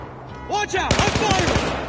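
Rapid bursts of gunfire from a PS4 shooter game ring out close and loud, a quick volley of shots layered with game voices and effects.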